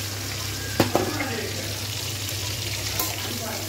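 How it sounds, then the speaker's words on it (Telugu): Brinjal (eggplant) pieces fry in a pan for kurma, giving a steady close sizzle throughout, with a couple of brief stirring clatters near the start and another soft knock later. "వంకాయ కొంచెం ఇలా ప్రెస్ చేసుకుంటూ ఫ్రై చేసుకుందాం అండి."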